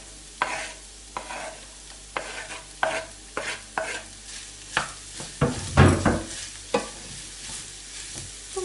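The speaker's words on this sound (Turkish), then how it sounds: "malzemeyi karıştırın" Repeated scraping and tapping of a spoon stirring chopped green and red peppers in a frying pan, with a soft sizzle underneath; irregular strokes, close and fairly quiet.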